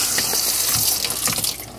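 Water pouring steadily from a filtered water tap, a close, continuous splashing hiss with small gurgling variations and no talking.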